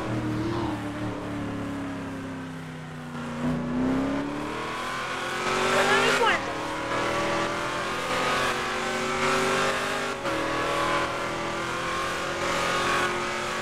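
Race car in GTA RP, engine revving and accelerating with rising pitch sweeps, gear changes and brief tire squeal, loud and close throughout.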